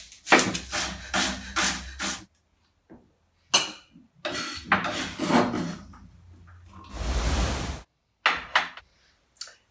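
Knife dicing a brown onion on a wooden board, bursts of rapid close chopping taps separated by pauses, with a longer scraping sweep near the end.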